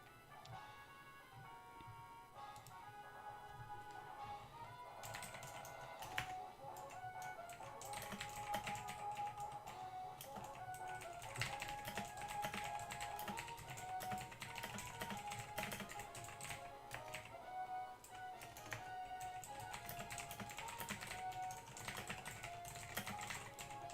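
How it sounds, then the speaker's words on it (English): Rapid keystrokes on a computer keyboard patter steadily and close, a dense run of light clicks over soft background sound with no talking. "That was me typing."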